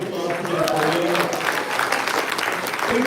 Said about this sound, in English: Can we just give a round of applause to Devfolio?